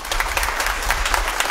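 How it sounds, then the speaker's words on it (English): A church congregation applauds during a Sunday service, a dense, even patter of many hands clapping together, steady and moderately loud throughout with no talking over it. "Let's give them a round of applause."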